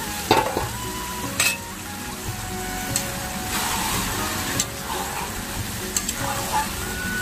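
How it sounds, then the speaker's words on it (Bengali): Mutton is sautéed in a pan over a continuous loud sizzle, with repeated scraping and clinking of a spatula as it is stirred, alone without talk. "এবার মাটনটা দিয়ে কষবো।"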